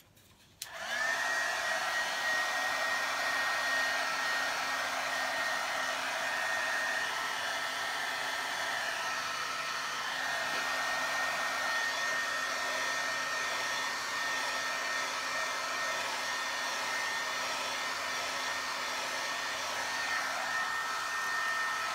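A hair dryer switches on and blows steadily for about twenty seconds, drying paint on a birdhouse, with a loud close whirring hiss and a constant high whine throughout.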